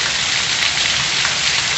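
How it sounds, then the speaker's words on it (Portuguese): Heavy rain pours steadily in Serra Talhada in the Pernambuco sertão, a dense, loud, unbroken hiss of drops hitting surfaces close by with no voices. "Mais uma chuva"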